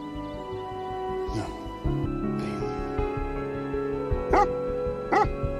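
A dog barks several times in a film scene, short sharp barks spaced apart over a sustained musical score.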